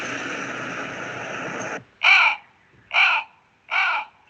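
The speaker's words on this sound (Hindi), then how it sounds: "कौवा भी आ गया है।" A crow caws three times, loud and close, in evenly spaced harsh calls following a stretch of broad steady noise.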